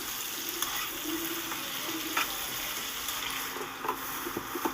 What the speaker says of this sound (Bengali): আলুটাকেও সুন্দর করে লাল করে ভাজতে হবে দেখুন ভালো করে একটু নেড়ে চেড়ে দিচ্ছি